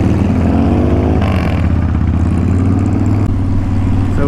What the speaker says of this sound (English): So it definitely is a Volkswagen engine. It sounds pretty badass.